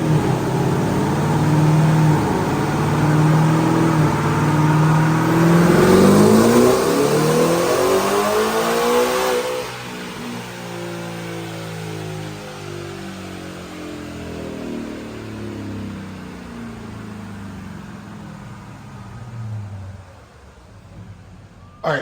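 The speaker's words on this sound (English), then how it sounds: "Check out this dyno pull." A 2025 Ford Raptor R pickup with a Whipple 3.8 supercharger, Kooks long tube headers and 93 octane fuel makes a loud dyno pull, its engine revving steadily upward in one long sweep, then dropping back to a lower drone as it winds down.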